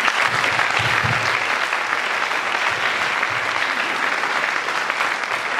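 Steady, dense applause from an audience at a steel drum orchestra school concert, loud and continuous throughout with no break.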